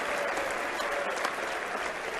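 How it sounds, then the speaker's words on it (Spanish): A church congregation claps together in praise during a service in Lima, Peru, producing dense, steady applause that carries evenly through the whole stretch with no voices over it. "As palmas louvam o nome do Senhor Jesus Cristo."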